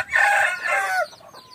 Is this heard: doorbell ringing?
no